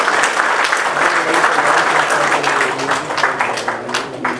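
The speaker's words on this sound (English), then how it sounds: "So please do clap as loudly as possible" Loud, sustained applause from a crowd welcoming a guest dignitary onto the stage at a Kannada movie launch event, dense clapping filling the room steadily throughout.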